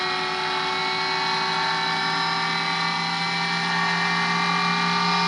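A pulse motor rotor spins at high speed, giving a continuous, loud whirring whine with strong steady tones and an even buzz throughout, without pauses.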